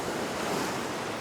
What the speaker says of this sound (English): The sea's coming up against the wall.